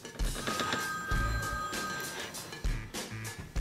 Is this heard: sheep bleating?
no